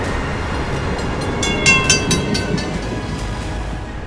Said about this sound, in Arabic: يلا بينا ونتعرف على أطول رحلة قطار ليا في أمريكا